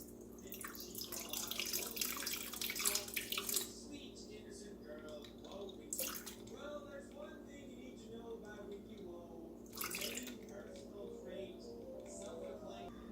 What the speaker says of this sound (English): And then add in half of your water.